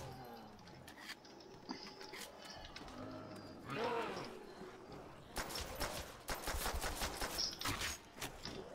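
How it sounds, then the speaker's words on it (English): Pistol fire in Call of Duty: World at War Zombies, a series of sharp, rapid shots bursting out in quick clusters over game background noise, some shots landing close together. "Okay, so now I can start using my pistol again."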